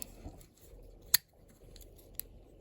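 Small scissors on a Victorinox Compact Swiss Army knife give two crisp, isolated snips, the first sharper and louder, close up against a quiet room.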